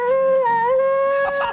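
A dog howls in one long, loud, wavering tone that dips and rises, close by, ending with a brief yip-like break.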